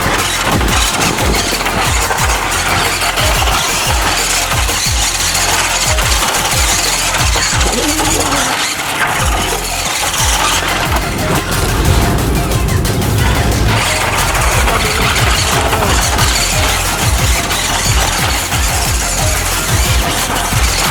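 A Suzuki Samurai drifting after its engine briefly cut out, with loud continuous engine roar, tire noise and scraping crashes throughout, dense and close with no clear pauses.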